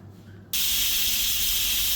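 Pressure cooker with beef gravy suddenly releasing steam, a quiet kitchen bursting into a loud, sustained hiss that fills the rest of the moment, with no speech.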